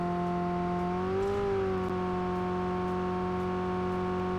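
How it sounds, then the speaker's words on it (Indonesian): A car engine in a multiplayer battle-royale video game hums steadily with layered tonal whine, rising briefly in pitch as if revving before settling back to a constant drone throughout. "Itu ada suara mobil ya?"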